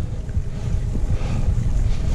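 Strong wind gusts buffet the microphone during a bike climb up the Col de la Valouse in the Drôme Provençale, a steady low roaring rumble with no talk.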